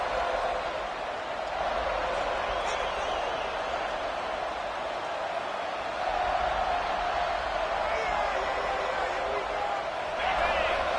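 A stadium crowd in an American football video game keeps up a dense, steady roar that stays loud and even from start to finish.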